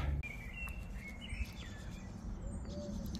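Birds singing outdoors beside a camper build site abroad, faint scattered chirps and short whistled calls over a steady low background hum.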